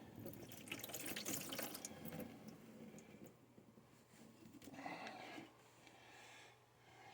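Water and sediment pour out of a neglected Craftsman rototiller's fuel tank, a Briggs 5.5 hp engine left outside, in a close splashing, trickling stream that is strongest at first, fades, then briefly surges again before tapering off.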